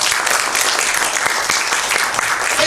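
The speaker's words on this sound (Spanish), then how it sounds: "Alguien le da un aplauso al Señor." A church congregation bursts into sustained, dense applause, a steady wash of many hands clapping at even loudness from start to finish with no voices standing out.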